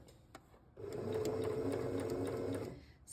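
A sewing machine runs a straight stitch at a slow, even pace, its close mechanical whir holding steady for about two seconds before winding down, with no talking.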